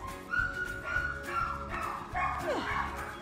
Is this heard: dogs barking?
yes